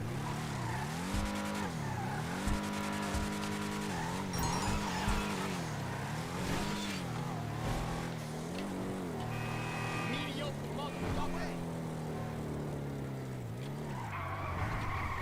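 The Deviant car in GTA Online Arena War, a loud continuous engine roar that climbs and drops through the revs again and again, with tire squeal and a voice talking over it.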